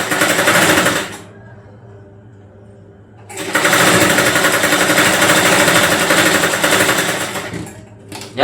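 Sewing machine stitching a cloth strip in loud, rapid bursts, a run of stitching, a pause of quiet, then a longer run ending abruptly, close by.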